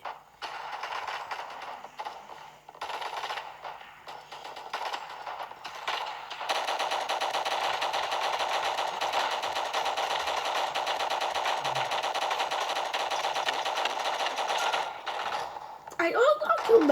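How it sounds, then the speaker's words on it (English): A minigun in the video game Gun Fight Arena fires in rapid, rattling bursts, starting with choppy short runs and then settling into a long, continuous stream of fire that cuts off near the end. "I'm just going to take a minigun."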